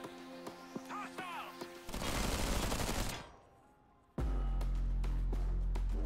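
Units firing shots in the strategy video game Zephon, a burst of rapid gunfire-like crackle mid-clip over game music and interface tones.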